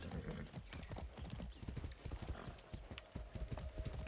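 Horse hooves galloping in Far Cry 6, a fast, steady clip-clop rhythm up close with dense, continuous hoofbeats and faint game ambience underneath.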